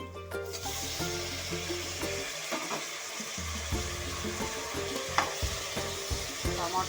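Chopped tomatoes go into a hot pan and fry, giving a steady, close sizzle with stirring scrapes and occasional clinks throughout.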